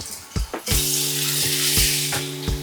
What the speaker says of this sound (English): so I am going to gently place the fish facing away from me so as not to burn myself